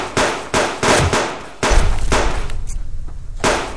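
Loud gunfire from rogue hunters in the Subsistence survival game: several sharp, evenly spaced shots open, then a dense rattling burst of rapid fire follows, with one last shot at the end.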